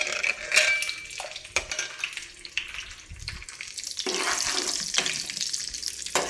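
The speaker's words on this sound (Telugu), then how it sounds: "జీడిపప్పులు వేగిపోయినాయండి" Cashew nuts fry in a pan for chana dal payasam, giving a steady crackling sizzle with bursts of bubbling and occasional stirring clatter, close and moderately loud throughout.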